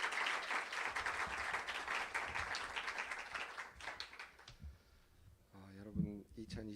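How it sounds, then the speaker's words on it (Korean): At a church-linked field study report meeting, the audience welcomes a pastor to the stage with warm, dense applause that fades after about four seconds, and then a voice begins speaking. "나오실 때 큰 박수로 환영해 주시면 감사하겠습니다"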